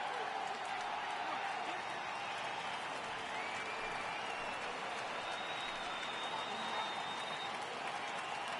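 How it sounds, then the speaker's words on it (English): A baseball crowd cheers and applauds steadily at a full 3-2 count, a dense, constant wash of clapping and voices from a distant stand with a faint whistle drifting above. "Crowd gets up for the 3-2."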